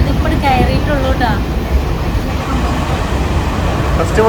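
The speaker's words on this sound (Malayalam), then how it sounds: "കറക്റ്റ് 3:20 നമ്മളെ ട്രെയിൻ എത്തി" A passenger train pulls into a station on a journey to Kannur: a steady, loud, broad rumble and rolling noise fills the whole clip, with voices talking briefly near the start.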